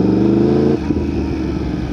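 A motorcycle ridden in winter runs close by, its engine droning steadily with a loud harmonic tone before the pitch shifts and settles into a rougher, lower idle-like rumble.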